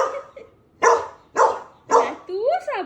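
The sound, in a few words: dog barking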